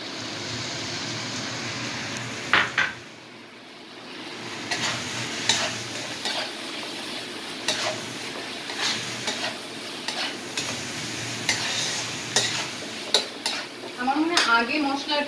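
Spiced masala frying with potatoes for a Tangra fish curry, a steady sizzle broken by frequent spoon-on-pan stirring clatter and scrapes, with faint clinks of utensils throughout.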